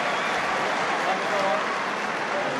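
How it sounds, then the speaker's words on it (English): A stadium crowd at an Ulster versus Connacht rugby match applauds Tommy Bowe as he leaves the field, a broad, steady wash of clapping throughout the short stretch with a commentator talking over it. "So generous round of applause for Tommy Bowe leaving the field."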